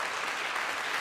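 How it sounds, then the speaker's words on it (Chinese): An audience claps together at a Sunday worship service in a church, a steady, even wash of applause that holds for the whole short stretch, with no voices over it. "我们给他拍掌哈"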